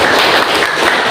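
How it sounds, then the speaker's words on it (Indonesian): Applause from a classroom of students, steady dense clapping filling the whole moment at close range with no voices over it. "tepuk tangan"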